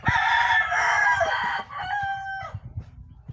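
A strong gamefowl rooster bred for cockfighting crows loudly and close by in one long, drawn-out call that trails off, followed by a few faint clucks.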